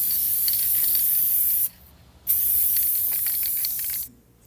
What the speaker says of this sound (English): Now I'm gonna spray the back just so that it's shiny